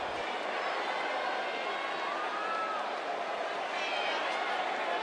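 Live crowd in the NBA 2K18 streets game at a warehouse venue, a steady broad roar of cheering fans filling the space throughout, with a commentator's voice faintly underneath.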